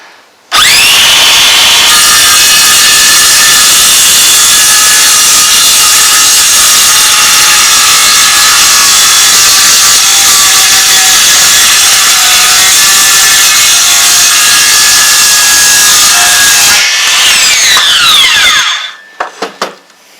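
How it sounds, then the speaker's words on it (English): A Makita BSS611Z cordless 6 1/2 inch circular saw rips through Tasmanian Blackwood recovered from a bookshelf, a loud sustained whining cut of about sixteen seconds that rises in pitch and then spins down to stillness at the end. "This is some Tasmanian Blackwood, which I've recovered from a bookshelf. We'll try and cut through that with the saw"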